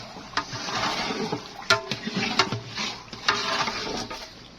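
Chickpeas, two kilos of them, stirred into browned beef inside a large cooking pot for degi gosht, giving repeated scraping and clattering stirs with wet, splashy shuffling, close and fairly steady with sharper knocks every second or so.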